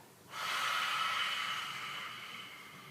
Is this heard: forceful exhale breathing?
yes